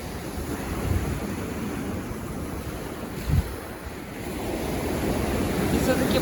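Winter sea waves roll onto stone breakwaters at Gurzuf, a steady surging wash mixed with wind noise on the microphone and one brief louder splash partway through, with no talk.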